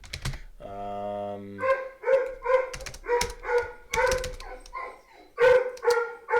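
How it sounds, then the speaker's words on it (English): Indoor dogs bark repeatedly in a loud, steady run of sharp barks, following a brief whine-like tone at the start. "Don't mind the dogs. They're just waiting for mom and dad."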